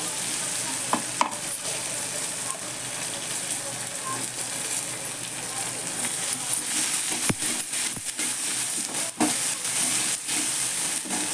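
Green chili masala paste fries in hot oil tempered with curry leaves and asafoetida for an urad dal curry, giving a loud, continuous sizzle and hiss close by, broken by occasional stirring clicks from a spoon against the pan.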